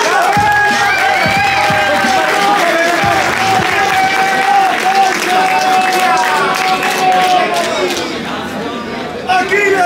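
Loud crowd applause and cheering at a Spanish-language freestyle rap battle, with whoops and shouting voices over dense clapping, close and sustained, easing slightly near the end.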